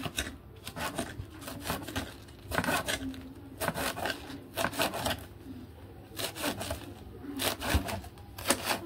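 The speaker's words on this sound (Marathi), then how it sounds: "आपण बारीक हे आळूचे पानं चिरून घेऊया" A knife finely chops taro (colocasia) leaves on a board, making bursts of quick, crisp cuts in an irregular rhythm with short pauses between them, close and moderately quiet.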